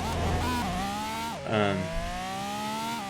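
A car engine in the Wayfort racing game revs hard through rising gear pulls, with a brief drop and burst of shifting before it climbs again, steady and close with no talk.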